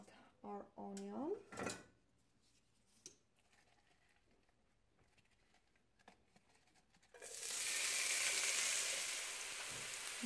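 Onion hits olive oil in a skillet and erupts into a steady, loud sizzle that carries on for several seconds, preceded by a voice speaking and a few soft kitchen clatters.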